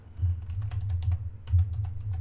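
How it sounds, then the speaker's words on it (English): Someone types a question into a computer keyboard with a quick, irregular run of light key clicks, close and fairly soft over a low background hum. "I can type in a question"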